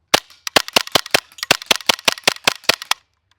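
Raptor SR-2M airsoft gas blowback rifle firing about a dozen sharp, evenly spaced shots in a rapid semi-auto string, loud and close, ending abruptly with silence.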